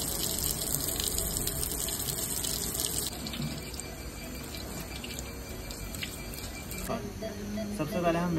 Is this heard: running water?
yes